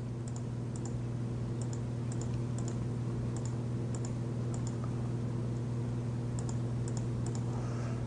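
Mouse clicks while ticking Spybot update checkboxes on a PC: a run of light, sharp clicks, mostly in pairs, scattered over a steady low electrical hum, fairly quiet and close.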